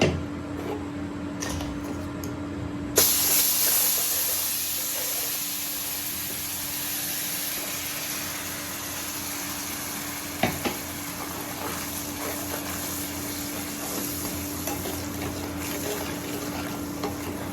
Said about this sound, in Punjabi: ਹੁਣ ਆਪਾਂ ਪਾਵਾਂਗੇ ਇਹਦੇ ਵਿੱਚ ਜਿਹੜੀ ਆਪਾਂ ਚਟਨੀ ਗ੍ਰਾਈਂਡ ਕਰਕੇ ਰੱਖੀ ਹੈ ਜੱਗ ਦੇ ਵਿੱਚ ਉਹ ਸਾਰੀ ਆਪਾਂ ਇਹਦੇ ਵਿੱਚ ਪਾ ਦਾਂਗੇ ਘਿਓ ਦੇ ਵਿੱਚ